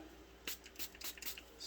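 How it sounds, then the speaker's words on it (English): Several short bursts of cleaner from a spray bottle are squirted onto a lint-free shop rag, quick hissing puffs in an irregular rhythm over a quiet workshop background. "Spray it on a rag. It's one of the lint-free shop rags."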